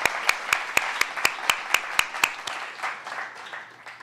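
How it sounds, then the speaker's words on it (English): Clapping from a small group: sharp, regular claps at first, then thinning into scattered applause that fades out. "we need to give Bonnie a round of applause for her work on this project"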